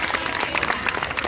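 An audience applauds at a team stream event, with a dense, steady wash of clapping over a brief stretch and some faint crowd murmur underneath.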